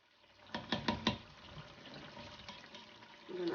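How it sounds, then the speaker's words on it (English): Water from a tap pours into a mixing bowl while palm oil fish stew with cassava is being prepared, a steady close splash lasting a few seconds after some brief clatters. "I'm going to add some water in."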